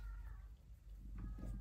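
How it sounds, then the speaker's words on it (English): A house cat lets out a few faint, drawn-out meows over a low indoor rumble, the calls thin and somewhat distant, with no speech. "There goes the cat again."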